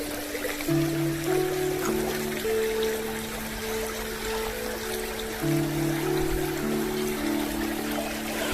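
River water flows over stones along the Rivelin Valley trail, a steady soft rush and trickle with faint sustained tones drifting above it and no voices.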